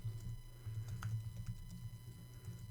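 An email address being typed on a computer keyboard, a run of soft, quick key taps over a steady low hum, with no talk.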